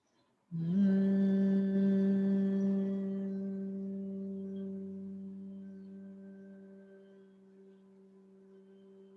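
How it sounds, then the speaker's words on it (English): A single long hummed exhale during a guided breathing exercise, starting abruptly and then fading slowly. The voiced tone is steady and close, with no speech around it. "exhale 3 times with a humming sound that's soothing to you"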